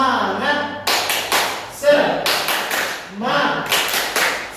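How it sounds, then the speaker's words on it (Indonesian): Classroom group of teachers and children doing the Indonesian tepuk semangat spirit clap, sharp rhythmic bursts of unison clapping between chanted voices, close and loud. "Tepuk semangat."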